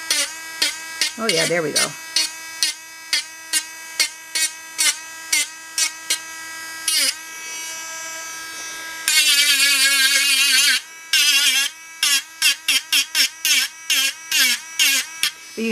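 A Dremel rotary tool buzzes in short repeated bursts and a few longer runs while cleaning a Patsy doll head, its whine rising and falling under load, with a voice speaking briefly between passes.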